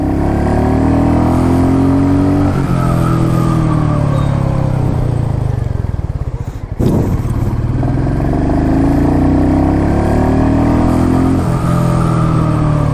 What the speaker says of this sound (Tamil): யார் சொன்னாங்க ராயல் என்ஃபீல்டு பீட் குறைஞ்சிச்சுன்னு? குறைஞ்சாலும் அது சூதிங்காக சூப்பராக இருக்குது கேட்குறதுக்கு.